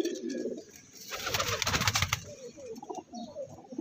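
Ferozpuri and other fancy pigeons coo softly and steadily in a loft, with a brief louder fluttering rustle in the middle; several birds close by, with no talking.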